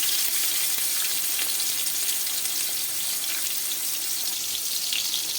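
Tomato sizzles in hot oil in a wok, a steady broad frying hiss that holds constant throughout at close range, with no voices.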